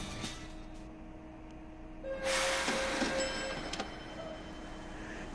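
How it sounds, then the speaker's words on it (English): Train ride in the Tokyo sightseeing game Go! Go! Nippon!, a steady rumble of a moving carriage with a swelling whoosh and a sustained tonal whine midway, then settling back to a quieter hum. "And now we went in the train"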